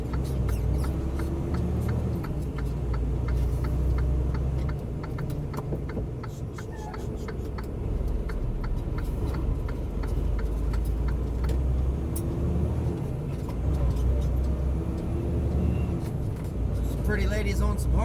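Heavy truck engine drone while driving a hazmat route, a steady low rumble with road noise running throughout, with talk over it.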